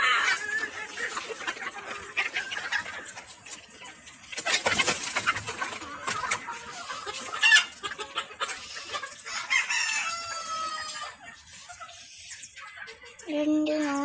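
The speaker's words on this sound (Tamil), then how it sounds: "இதுதான் என்னோட கோழி பண்ணை." Chickens cluck and chatter close by in a poultry shed, joined by a rooster's crow and other bird calls, in a busy, continuous farmyard chorus.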